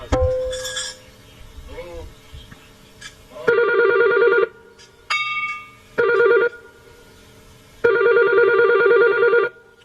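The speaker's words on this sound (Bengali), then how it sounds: "শালা কোন শালা ফোন করছে রে?" A telephone rings in repeated loud electronic bursts with pauses between them, following some brief background sounds at the start.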